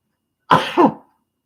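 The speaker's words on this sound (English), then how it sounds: "It was like a cough, sneeze." A single close, abrupt sneeze with a harsh, cough-like burst in two quick pulses, alone in silence.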